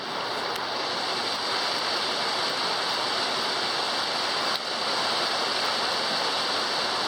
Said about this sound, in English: And you can hear the water